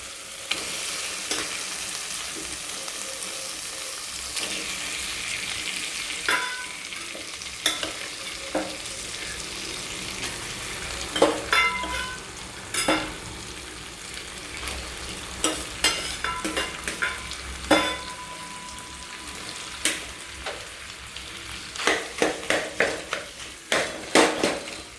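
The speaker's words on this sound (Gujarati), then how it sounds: "ને હવે આપણી જે ખીચડી છે એ આપણે ઉમેરી દઈએ." Khichdi tipped into a hot pan with fresh coriander and stirred, a steady sizzle and frying hiss under repeated scraping and clinks of a spoon or tongs against the metal pan, getting busier toward the end.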